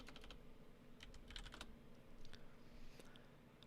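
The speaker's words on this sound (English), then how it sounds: "As I was typing it in, into the search on Amazon, it auto-populated." Fingers tap a computer keyboard while entering an Amazon search, a quiet irregular patter of light key clicks with short bursts and pauses, faint and close-up.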